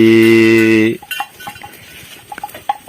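Penned cattle on a traditional farm give a loud, low, drawn-out moo lasting under a second, then scattered soft clatters and knocks nearby.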